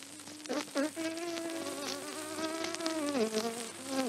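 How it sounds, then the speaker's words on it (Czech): Flies and small bees drone and buzz on a quiet, cloudless day, a soft, continuous hum with wavering tones that rise and fall without a break. "Kolem bylo hluboké ticho, jen mouchy a včeličky bzučely."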